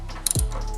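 Brief clicks of a ratchet wrench with an extension and swivel as it loosens a 13 mm coilover nut on a car, followed by a low mechanical thud.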